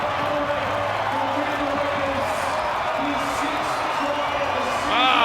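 A rugby league crowd roaring at the 2019 preliminary final between Canberra Raiders and South Sydney Rabbitohs, a broad, sustained stadium roar running under a commentator's talk.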